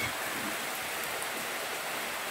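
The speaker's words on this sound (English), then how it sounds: "yeah, it's raining." Steady rain falling on a pig farm in Jamaica, a continuous broadband hiss with no breaks, close and fairly loud, with no talking over it.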